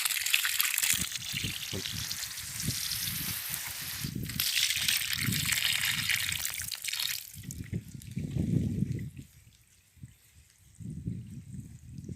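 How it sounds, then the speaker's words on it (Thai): Water from a hose runs and splashes steadily for several seconds onto chili plants, with low rumbling and background noise, then tapers off before picking up again more softly. "ต่อสายยางออกมาครับกอกน้ ำเบิ่งน้ำไหล"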